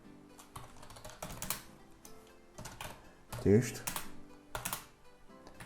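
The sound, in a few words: typing on a computer keyboard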